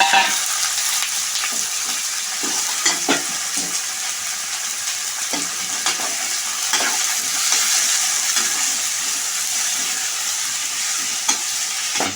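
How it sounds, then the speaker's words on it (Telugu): Onions frying lightly in oil with mutton pieces, a loud continuous sizzle with frequent stirring scrapes and clatters of the spoon in the pan, no voices. "ఈ ఆనియన్ కొంచెం లైట్గా ఫ్రై అయిన తర్వాత మనం మటన్ పీసెస్ వేసుకుందాం"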